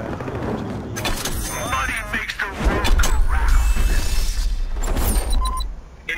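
Gunfire in the video game Battlefield Hardline: loud, dense bursts of shots and heavy crashing blasts fill the scene, with voices talking over the action.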